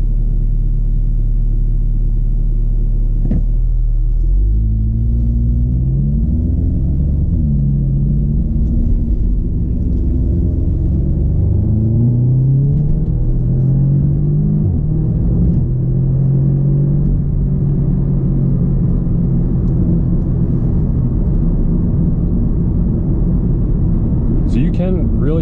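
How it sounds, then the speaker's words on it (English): An Audi S3 engine rumbles at idle, then climbs through rising revs as the turbo spools up, the deep drone close and steady from inside the car, with a faint release sound near the end. "You can really hear the turbo in this car, which is pretty cool. You can hear it spooling up"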